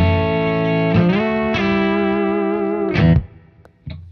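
Electric guitar runs through a compressor pedal with the blend turned up, giving long, even, sustained chords that shift a few times before a sharp final strum cuts off, then a short, faint note rings at the end.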